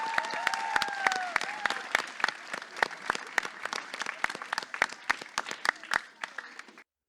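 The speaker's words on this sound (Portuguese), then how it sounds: "Rodrigo Souza, Ricardo Cabelo, salva de palmas aqui, pessoal do Teatro Flávio Império." Theater audience bursting into applause, dense clapping with a few sharp louder claps, steady for several seconds then thinning out and stopping.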